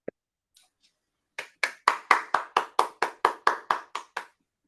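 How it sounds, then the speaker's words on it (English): Roughly a dozen slow, evenly spaced claps in a quiet room after a mathematics talk, sounding like a single person or a very small group clapping close by. "Let's all give this big a round of applause."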